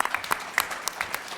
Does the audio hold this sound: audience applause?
yes